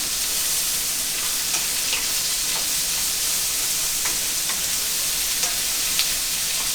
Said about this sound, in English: And you stir fry until the onion